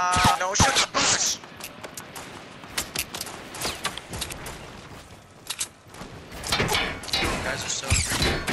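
Rapid bursts of video-game gunfire crack out in loud clusters, trailing off in the middle before another heavy volley near the end, with excited players talking over the shots.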